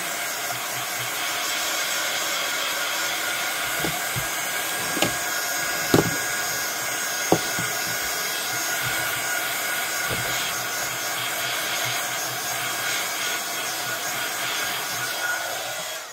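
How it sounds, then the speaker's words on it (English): A hair dryer blows steadily and loudly to dry a mixed media card, its constant airy roar running throughout with a few faint knocks and taps beneath it. "Now, again, I need to dry it."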